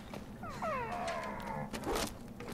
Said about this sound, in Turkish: O ses ne be? Geyik.